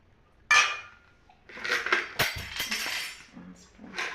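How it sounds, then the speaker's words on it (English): A spoon tumbles into a pile of dishes in a home kitchen while spaghetti is being served: a sharp metallic clink, then a run of rattling knocks from cutlery and crockery, with faint voices in the background. "One spoon has fallen."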